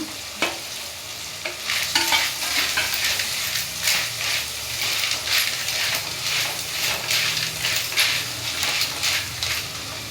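Food frying and being stirred in a pan for a rural-style recipe, with a steady sizzle under repeated scraping and stirring strokes that continue evenly throughout.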